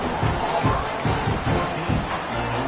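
Football stadium crowd at an Auburn vs. Bowling Green game roaring and cheering after a successful two-point conversion, a loud sustained wash of voices with rising surges throughout.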